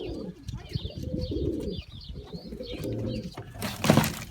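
A male pigeon that escaped and landed on a rooftop cooing several times in close, soft, rolling phrases, with light background rustle and a louder bump near the end.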